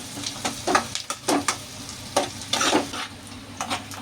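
Onions, green chillies, prawns and curry leaves fry in a pan for a dry prawn curry, with a steady close sizzle broken by repeated scraping stirs every half second or so.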